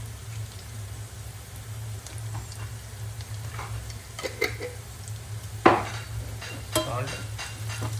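Whole red chillies and turmeric fry in a pan with a soft, steady sizzle and a few sharp crackles and pops. It's close but quiet, with a low background hum.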